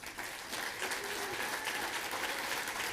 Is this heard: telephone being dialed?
no